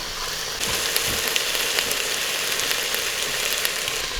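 Boneless, skinless chicken pieces sear in an Instant Pot for Thai yellow curry, a steady close sizzle and crackle with occasional brief stirring scrapes and no voices.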